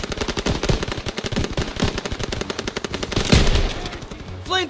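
Machine guns fire in Call of Duty: WWII, a dense, rapid string of loud bursts, close and continuous, with a heavier impact partway through.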